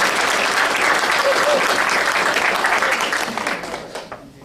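A round of applause fills a meeting room, dense and steady from a sizeable audience before thinning out near the end.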